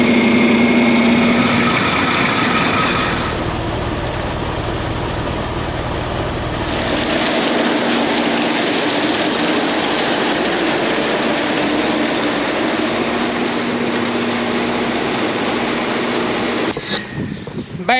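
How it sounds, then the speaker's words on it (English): An old John Deere 3020 tractor runs with its PTO engaged, a loud, steady mechanical roar that thickens after a few seconds and holds continuously before briefly faltering near the end. "About to engage the PTO on the old John Deere 3020, and hopefully it's gonna work."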